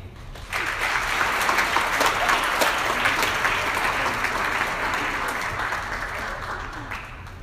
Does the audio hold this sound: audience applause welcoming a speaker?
yes